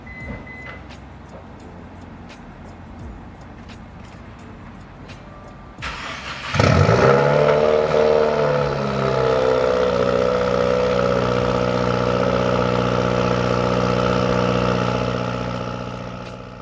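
Car engine cranked and started after a quiet stretch, catching with a loud burst and then settling into a steady, close idle that holds for about ten seconds.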